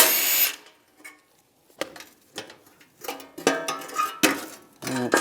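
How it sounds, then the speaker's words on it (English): A power drill whirs in several short bursts, drilling out rivets on a 2007-2013 Chevrolet Silverado 1500 rear bumper, stopping and starting, with metallic clinks and scraping between them; close and loud. "Now you can drill the rivets out on the other side."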